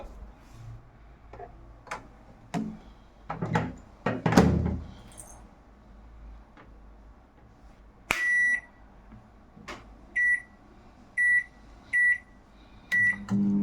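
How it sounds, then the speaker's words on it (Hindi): A microwave oven heating chilled food from the fridge for 30 seconds hums steadily with some clicks and thunks, then a series of sharp electronic beeps repeats at regular intervals toward the end. "तो ताकू किछि सेकेंड पे माइक्रोवेव कर नवा।"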